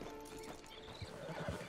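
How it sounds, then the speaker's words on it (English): A horse in the video game Red Dead Online gives a faint, distant whinny with some soft hoof clops, low beneath a continuous game ambience. "Just get on the horse when you're good and ready,"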